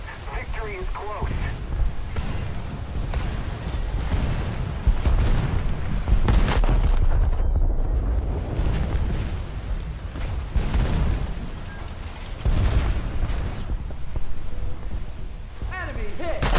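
Heavy battleship guns boom repeatedly in a naval video game, deep blasts rolling out in loud clusters with a brief lull midway, while voices talk over the gunfire.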